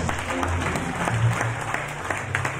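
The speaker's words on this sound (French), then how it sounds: "Acclame pour Jésus-Christ." A church congregation bursts into steady, dense applause, a loud close wash of many hands clapping for Jesus Christ throughout, with no clear talk over it.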